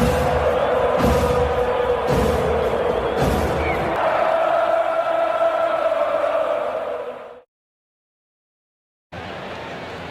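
A video-game baseball crowd roars steadily in a Braves versus Diamondbacks broadcast, loud and sustained with a few sharp bursts, then cuts to brief silence before the crowd noise resumes.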